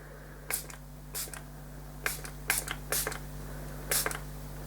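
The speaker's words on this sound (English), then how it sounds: "So this is just a water spray." A water spray bottle spritzes in short, sharp hissing bursts, about eight quick pumps spaced irregularly, close and crisp over a faint steady background hum.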